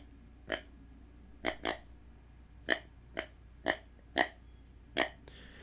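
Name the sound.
deer grunt call imitating buck tending grunt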